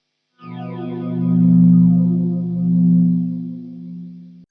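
Electric guitar through a PH2 phaser plays a sustained chord without string bends, its tone swirling and sweeping in two slow waves over about four seconds before cutting off.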